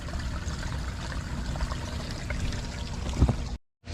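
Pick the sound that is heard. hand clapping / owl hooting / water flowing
water flowing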